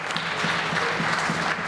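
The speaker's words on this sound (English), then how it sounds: "Please give them a big round of applause and welcome to the Assembly." Sustained applause from a crowd filling the chamber of the Legislative Assembly of Alberta, steady and fairly loud, with no voices standing out.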